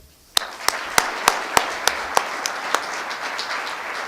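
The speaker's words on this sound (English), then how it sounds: "a round of applause for the new Wings Club president" Audience applause greets the new Wings Club president at an annual meeting: a roughly steady run of about ten sharp, evenly spaced claps rising above a dense crowd clatter that starts suddenly and holds at moderate loudness.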